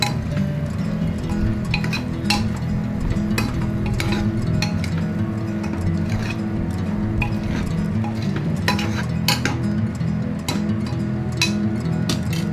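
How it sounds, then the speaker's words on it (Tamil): A spoon scrapes and clinks steadily against a metal pan while masala is stirred into vegetables, with soft sizzling underneath. "இந்த மசாலாவை நல்லா இந்த காய்கறியோட கலந்து விட்டுக்கலாம்"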